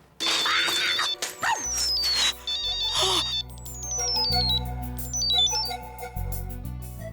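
A phone rings on an outgoing call, its melodic ringtone repeating in descending chiming notes over loud dramatic music hits and swells.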